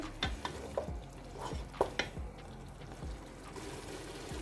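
Oil goes into a cooking pot for dhaba-style mutton daal, giving faint sizzling and stirring with several soft scraping knocks against the pot, quiet and close by.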